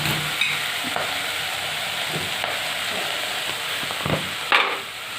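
Vegetables with green chillies stir-frying in a pan, a close, continuous hissing sizzle with intermittent scraping and tapping of a utensil against the pan, with no talking.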